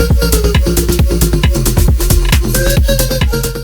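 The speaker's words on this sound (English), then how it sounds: "today I'm going to show you how to make a Stutter house banger which sounds like this" A stutter house electronic dance track plays loud and full, with a pounding four-on-the-floor kick, punchy drums and chopped, stuttering melodic synth stabs over a steady groove, no voices.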